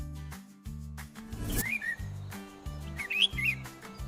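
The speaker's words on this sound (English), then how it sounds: "The little bulbul chirps in the garden." A bulbul gives several short, bright chirps and whistled notes in a garden, heard over a steady pulsing low music bed.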